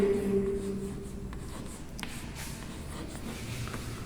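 Marker or chalk scratches steadily across a board as a definition is written out, a continuous soft scraping with a few sharper strokes, close and moderately loud with no talk over it.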